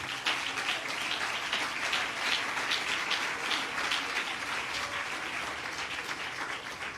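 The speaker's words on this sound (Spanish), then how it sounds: "Denle un fuerte aplauso al Señor." A church congregation bursts into sustained applause, a dense, rain-like wash of many hands clapping together at an even level throughout, with no speech over it.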